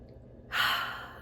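A deep inhalation drawn in sharply after a moment of near silence, the breath rising quickly, then tapering off slowly as it fills out, close and alone with no talk.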